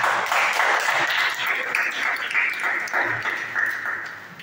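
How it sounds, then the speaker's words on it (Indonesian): Church congregation clapping during a Sunday worship service, a steady mid-level wash of applause lasting a few seconds with faint voices mixed in. "Beri tepuk tangan buat Tuhan."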